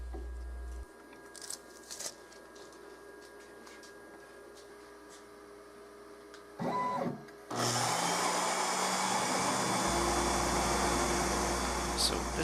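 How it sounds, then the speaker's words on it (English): A CNC V-cutter bit mills thin copper foil on a PCB wafer, moving too fast and tearing the copper. A quiet machine hum with a short burst gives way to a loud, sustained grinding whine. "That bit is moving far too rapidly across the surface of my workpiece, and it's really tearing up that thin copper layer on top of the wafer"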